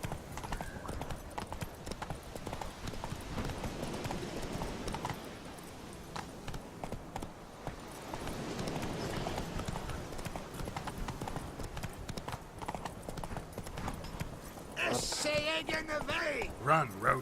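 Horse hooves clip-clop at a gallop in The Witcher III, a steady rhythmic pounding with a brief whinny near the end, heard under someone talking.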